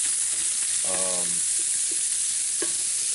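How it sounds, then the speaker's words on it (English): Homemade spicy chorizo sausage sizzles and browns in a cast iron Lodge pan, a steady close frying hiss broken by a brief scraping stir near the start and a short clink later, with no talking. "we're just going to brown off this sausage real quick"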